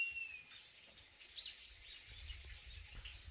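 Small birds chirp and twitter faintly in a temple forest in spring, brief high calls scattered over a quiet outdoor background with a low rumble.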